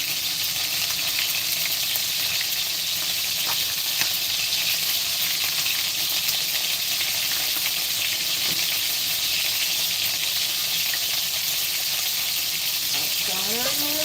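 Beef browning in a frying pan while making a Sunday dinner, a steady close sizzle and crackle running throughout with occasional stirring scrapes.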